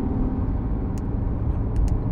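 A Porsche 991.2 GT3 Touring pulling out, heard as a close, loud low rumble of engine and road noise that swells slightly toward the end, with a few faint high clicks over it and no talk.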